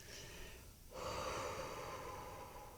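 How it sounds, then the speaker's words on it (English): A slow release breath pushed out from the belly, a long airy exhale that swells after a short pause, close and soft against a steady hiss, with no talking. "you do a release breath"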